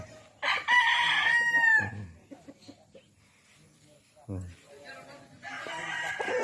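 A rooster crows loudly and close on a gamefowl farm in Ilocos, a single long crow followed by softer clucking and another crow starting near the end, with people talking in between.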